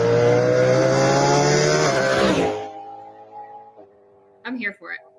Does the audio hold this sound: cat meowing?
no